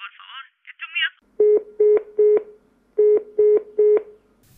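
A mobile phone being dialed, with six clear keypad tones in two groups of three following a few short higher beeps, loud and close, with nothing else in the background.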